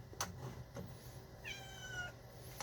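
Cats meow around food in a home kitchen during a spaghetti cooking session, one drawn-out clear meow near the middle after a couple of soft clicks, with a quiet room hum underneath.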